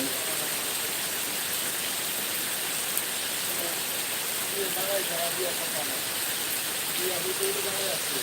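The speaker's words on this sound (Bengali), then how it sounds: "একেবারে ধুম একটা বৃষ্টিটা নেমে গেল" Heavy rain pours over Gulshan lake park in a steady, dense hiss that fills the whole clip, with faint voices of a crowd murmuring beneath it.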